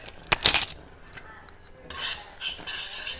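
Strawberry chia seed jam being stirred in a bowl, a utensil scraping and rasping against the sides in a few bursts, loudest at the start, then softer continued stirring; no talking.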